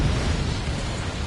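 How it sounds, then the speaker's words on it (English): A missile explosion in the Ace Combat 7 video game, heard as a deep, sustained rumbling roar that fills the whole moment at a steady level with no distinct attack. "Missile."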